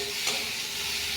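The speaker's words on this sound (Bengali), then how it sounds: "নাড়িয়ে সুন্দর করে ভেজে নেব" Mixed vegetables with salt and turmeric frying in a pan as they're stirred, a loud, dense continuous sizzle up close, nobody speaking.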